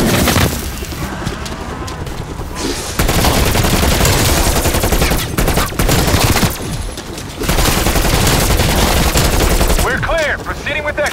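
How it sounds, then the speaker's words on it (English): Death Machine minigun in Call of Duty Black Ops Cold War zombies mode, loud continuous rapid fire with booming impacts in long bursts and brief pauses between them. "Death machine firing."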